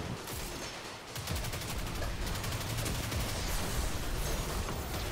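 A cannon firing in the Destiny 2 video game, heard as a sustained, noisy barrage of rapid blasts that swells after the first second and holds steady and loud to the end, with no talk.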